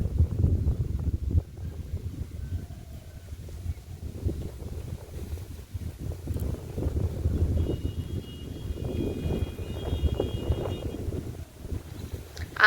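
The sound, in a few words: strong wind blowing outdoors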